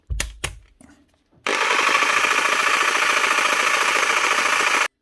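A Makita 4329 jigsaw, which cuts very slowly because of a faulty guide wheel, gives a couple of sharp knocks and then switches on. It runs in a loud, steady buzzing whir for over three seconds before cutting off abruptly.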